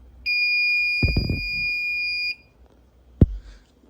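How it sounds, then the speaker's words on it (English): A building fire alarm system with strobes sounds a loud, steady electronic tone for about two seconds before cutting off, with a few knocks and a sharp click nearby. "I'm going to reset this fire alarm system to get the strobes to stop."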